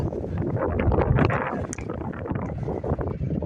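Strong gusty wind buffets the microphone at Stinson Beach, a loud, dense low rumble with fluttering bursts and no talk.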